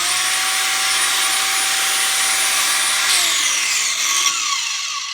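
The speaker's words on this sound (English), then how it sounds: "Once the grinder's running, I can actually hold it in whichever position I need it in." A Snap-on 18V cordless angle grinder, model CTGR8850, runs steadily at close range with a loud, continuous high-pitched whine that holds level for several seconds and shifts slightly in pitch near the end.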